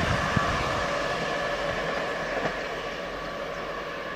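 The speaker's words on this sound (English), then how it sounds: "The train now approaching platform 2 does not stop here." A train rumbles steadily past a station platform at close range without stopping, a continuous broadband roar with a faint metallic click near the start, no voices.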